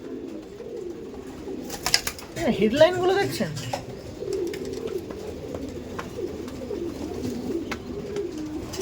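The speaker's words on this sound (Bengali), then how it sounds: "দেখুন পায়রাগুলো দেখছেন, খুবই সুন্দর পায়রা" Racing pigeons cooing at a loft farm, soft low repeated coos with a brief burst of wing flutter, heard under a voice talking.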